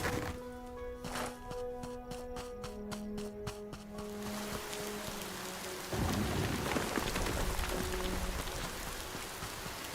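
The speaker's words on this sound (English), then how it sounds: "Oh, it's raining." Rain falls steadily in a remote Alaskan setting, heard at a distance beside a cave. A run of sharp rhythmic knocks and a low tonal drone sit over it early on, and a rumble like thunder swells near the end.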